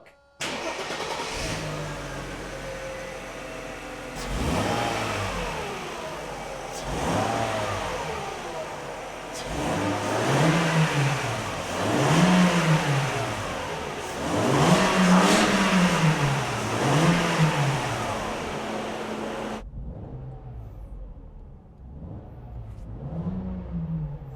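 A Mercedes W140 S320L engine revs repeatedly, several rising and falling throttle blips over a steady idle, close and loud, before dropping abruptly to a quiet low idle near the end.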